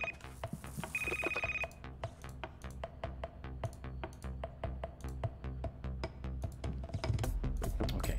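A telephone rings in the horror game Knock Harder, a repeated electronic ring tone rising over a dense, rhythmic layer of tapping and game music, fairly loud and steady throughout.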